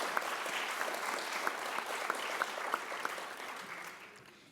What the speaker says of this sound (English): please give a round of applause to all the candidates that showed up tonight